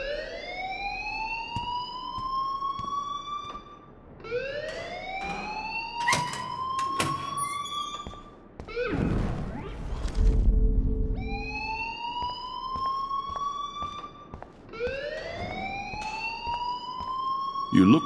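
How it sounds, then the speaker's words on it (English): A fire alarm in the video game Life Is Strange sounds in loud, repeated rising electronic wails, each lasting a few seconds, with a short break and a burst of low rumble and clatter in the middle. "please turn off that alarm since that's your job"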